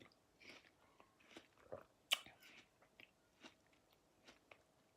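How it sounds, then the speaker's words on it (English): Someone eats watermelon up close, with a run of soft, wet bites and chewing crunches at irregular intervals over a quiet background. "I'm eating some melon right now"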